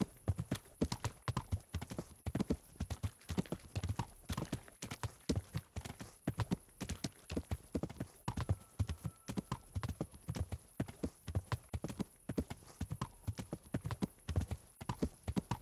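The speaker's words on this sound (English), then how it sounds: "the thumping of the horse's hooves is a little loud for my taste" Horse hooves trot in the video game Kingdom Come: Deliverance, making a steady rhythmic clip-clop of close, fairly loud thumps that runs throughout.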